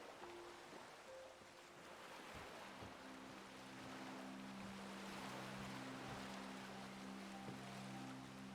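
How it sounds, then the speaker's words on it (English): Ocean waves breaking along a coast in the Skyrim video game, a steady wash of surf under low sustained tones from the game's music, with no voices. "I was just letting the sound of the waves take my thoughts out to sea"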